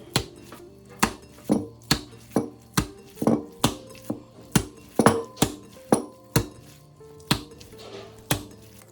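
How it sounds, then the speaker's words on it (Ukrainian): Minced meat is slapped down hard again and again, about seventeen sharp thuds in an even rhythm over nine seconds, close and distinct with quiet gaps between. "Побийте м'ясо 15-20 разів."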